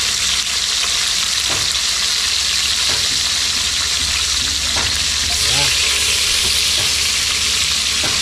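Garlic frying in a pan, a loud continuous hiss of sizzling oil with occasional bubbling pops and stirring knocks.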